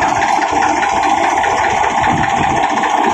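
A Massey Ferguson 245 DI tractor engine idles steadily close by, a constant rumbling chug with no voices over it.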